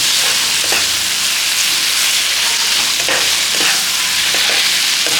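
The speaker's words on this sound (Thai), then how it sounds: "หลังจากนั้นเราก็จะตามด้วยมะเขือเลยครับ ผัดให้มะเขือสุกนะครับ" Eggplant is stir-fried with pork head meat and curry paste in a hot pan. It gives a loud, constant sizzle broken by periodic scraping stirs, with no one talking.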